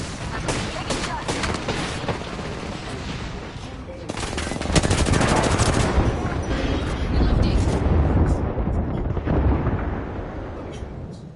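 Sustained loud gunfire in the Apex Legends firing range, dense automatic bursts with occasional heavier blasts running without a break, with speech faintly beneath.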